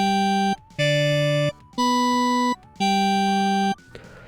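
A bright FM-synthesized organ voice from the Fazeoid web synthesizer plays four sustained chords in a row, each held about a second with short gaps between them, loud and clear with no talking.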